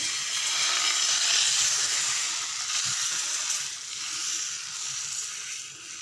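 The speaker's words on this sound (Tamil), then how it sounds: "நம்ம தோசைக்கல்லில் ஊற்றிடலாம்." Instant dosa batter poured onto a hot dosa griddle sizzles in a steady, fairly loud hiss that swells and eases slightly but never stops.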